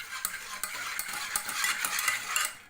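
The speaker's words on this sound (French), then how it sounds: "on va vraiment remuer" A spoon stirs and scrapes a sugar, semolina and mastic mixture in a pot, giving repeated close, rhythmic scraping strokes with light metallic clinks.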